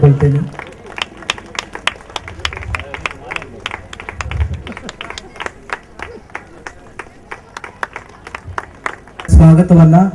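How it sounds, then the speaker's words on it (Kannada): An audience at a 2014 Christmas programme in Dandupalya claps in scattered patter beneath a speaker's voice, then bursts into louder, fuller applause near the end. "ಜೋರಾಗಿ ಚಪ್ಪಾಳೆ ತಟ್ಟುವ ಮೂಲಕವಾಗಿ"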